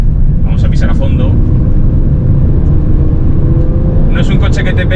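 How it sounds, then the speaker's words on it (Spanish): The 2.0-litre diesel engine of a BMW 325d E93 hardtop convertible drones loudly and steadily as it downshifts under full throttle, with someone talking over it at intervals. "vamos a bajar una marcha, vamos a pisar a fondo"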